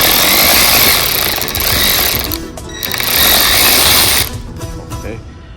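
Bolts being started on the side-step brackets of a Toyota Land Cruiser 300 SUV, a loud, close, continuous mechanical ratcheting and whirring that eases off briefly in the middle and drops away near the end.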